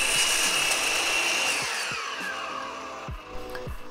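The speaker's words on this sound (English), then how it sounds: "I have a saw that goes past 45 degrees" Power saw cutting angled wooden legs for a bottlecap Plinko yard game, a loud sustained whine through the wood that fades as the cut finishes, followed by a few sharp knocks of the pieces.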